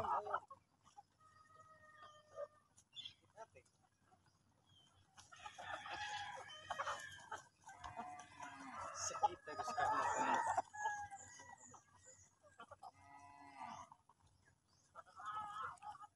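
Heritage chickens on a farm during the morning routine, hens clucking and a rooster crowing repeatedly at moderate distance, with faint human speech at times.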